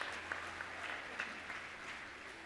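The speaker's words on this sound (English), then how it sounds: "Please give yourselves another round of applause." A room of school district educators applauding themselves at a staff appreciation event, a brief, fairly soft but steady round of clapping with no talk on top.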